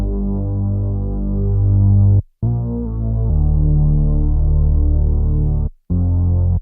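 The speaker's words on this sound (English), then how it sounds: "added this Moog bass from Analog Web," A deep Moog bass from Analog Web plays in a dark hip-hop beat, with sustained low synth notes following root tones. The line is loud and up front with two brief gaps of silence between phrases.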